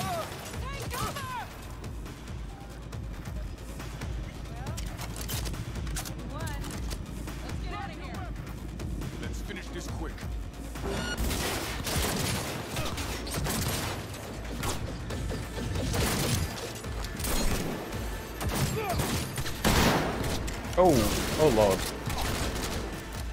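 Bursts of gunfire in Cyberpunk 2077 crack out repeatedly with sharp rapid shots and mechanical clatter, with someone talking over the action.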